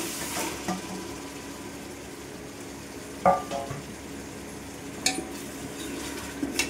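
Chopped tomatoes tipped into a pan of frying ginger-garlic paste for a broiler chicken gravy curry, a steady soft sizzle with a few sharp clinks and scrapes of a spoon stirring against the pan.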